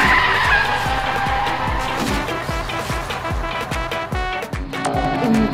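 A toy truck skids along a toy race track, giving loud, sustained skidding with a repeated rhythmic clatter of wheels over track joints and no talk.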